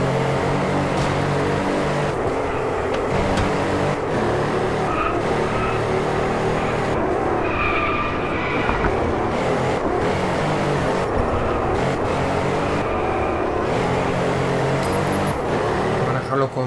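A Mercedes AMG racing car in the Driveclub video game roars continuously with engine revs and tire squeal, loud and close throughout, while someone talks over it.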